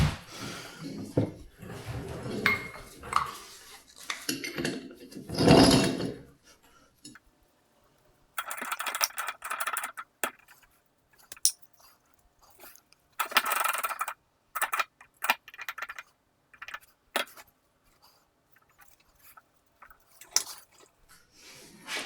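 A hydraulic 5-ton Porta Power spreader is pumped up to test for leaks, giving bursts of close mechanical clicks, squishes and ratcheting strokes separated by quiet pauses.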